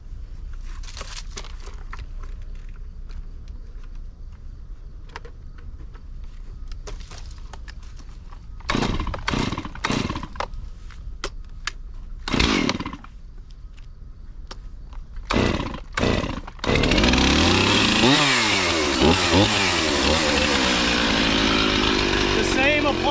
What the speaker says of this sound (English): The same applies when you're cutting with a chainsaw as a sawzall.